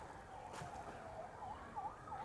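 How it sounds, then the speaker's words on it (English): Sirens wail faintly in the distance near an abandoned house, their rising and falling tones sweeping repeatedly over a steady murmur of background noise. "Now listen to those sirens."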